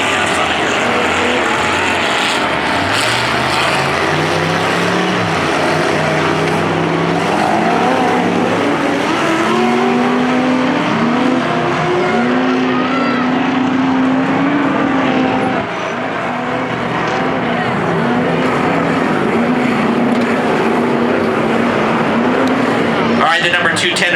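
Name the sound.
race cars driving up a hill during heat race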